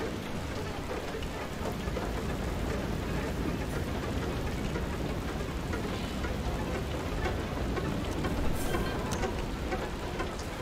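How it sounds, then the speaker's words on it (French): Hail shower in the video game FAR Lone Sails, a dense, steady, loud rattle of falling ice pellets that continues unbroken throughout with no pauses. "quand ils font des averses de grêle ici, ils font pas semblant les cochons"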